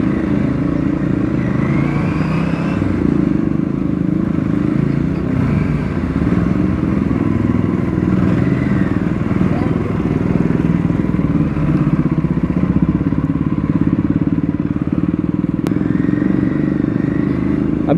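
An Aprilia RS 457 motorcycle rides off road with a loud, continuous engine drone and rumbling wind and tyre noise, heard close throughout.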